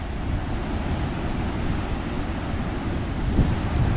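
Big ocean waves roll in and break on the shore along the Nullarbor coast, a continuous loud roar of surf mixed with wind rumble on the microphone, with no talking.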